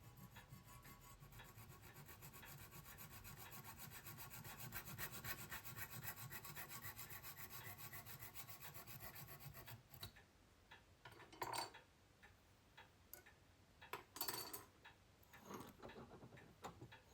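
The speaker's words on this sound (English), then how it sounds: "With the pipe cut to length, I remove the sharp edges with a file and deburr the centre hole with a drill." A hand file rasps the sharp edges off a length of cut copper pipe meant for engine banjo fittings on a Norton Nemesis V8 rebuild. Close, steady strokes run for about ten seconds, then give way to sparse scrapes and taps.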